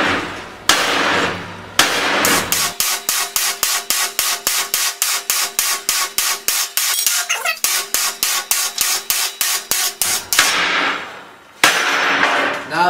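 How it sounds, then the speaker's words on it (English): A hammer strikes apart stick welds made with welding rods, a rapid run of sharp metallic blows close up between stretches of scraping and rubbing. "Okay, so now we just have to hammer apart these AC welds here,"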